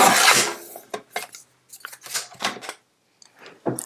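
Card paper being trimmed for the inside of a handmade card, heard as a close, quiet series of short rasping cuts and rubs separated by brief pauses, with no talking.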